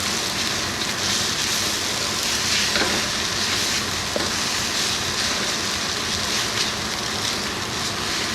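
An egg is broken up and stir-fried with noodles for Chinese broccoli pad see ew, giving a loud, continuous close sizzle and frying hiss with scraping stirring.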